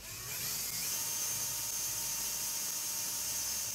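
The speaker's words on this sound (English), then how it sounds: "Using a 3/32" drill bit, bore 2 pilot holes in the oval markings as shown" A power drill with a 3/32 inch bit bores pilot holes into a cabinet side for a lock receiver latch. It starts almost immediately and holds a steady, high, whining spin at close range.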